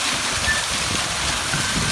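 Strong broadband rush of water gushing from an opened fire hydrant, a loud continuous hiss at steady level for the full stretch with no voices.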